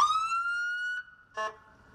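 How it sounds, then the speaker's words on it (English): A police car siren wails in a steady rising tone, breaks off briefly, then returns with a short burst of a harsher warbling blast, loud and close with no talking. "Lights on and sirens blaring."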